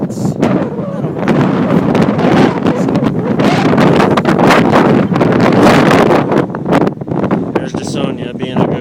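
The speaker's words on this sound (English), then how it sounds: "Wind like this, you get a definite great workout" Strong wind buffeting the microphone outdoors, a loud continuous roar with gusty surges throughout, easing slightly near the end.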